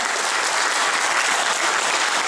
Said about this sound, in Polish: Tak, ogromne brawa.